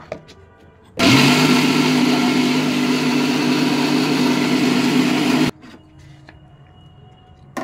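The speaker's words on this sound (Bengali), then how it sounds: "এই কিছুটা ডাল আমি মিক্সিতে পেরে নিচ্ছি" Mixer grinder blending soaked lentils with a little water, a loud steady motor whir running for about four and a half seconds before stopping, with quiet clattering before and after.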